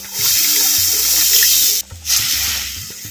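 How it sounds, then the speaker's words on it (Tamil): About 200 ml of plain water pours into masala frying in oil, a loud continuous splashing rush with a brief dip partway through. "இப்போ தேவையான அளவு பச்சை தண்ணி சேர்த்துக்கிறேன் பச்சை தண்ணி இரநூறு எம்எல் சேர்த்துக்கிறோம்"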